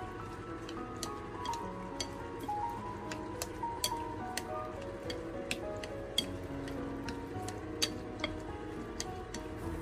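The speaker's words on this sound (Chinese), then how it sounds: "最后再用筷子搅拌均匀，把所有的调料充分的搅拌融合在一起" Chopsticks stirring seasoned tomato batter with salt, soy sauce and pepper in a bowl, giving a steady run of light ticks and clinks against the rim over a low background hum.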